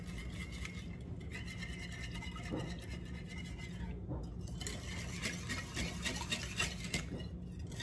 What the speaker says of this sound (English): just give this a whisk till everything's nicely combined